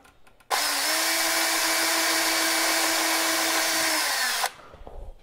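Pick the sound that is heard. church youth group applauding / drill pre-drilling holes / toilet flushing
drill pre-drilling holes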